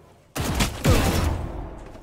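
Gunfire in the video game Valorant, a sudden loud burst of rapid shots that rings out and decays over about a second and a half.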